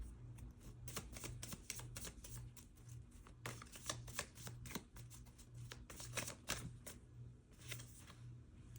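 Tarot cards being shuffled by hand in a steady run of soft, crisp riffling flicks, close and fairly quiet, repeating without pause over a faint low hum.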